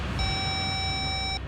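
A single steady electronic tone, clear and moderately loud, sounds for just over a second as a phone call cuts off in a Hindi CID crime drama.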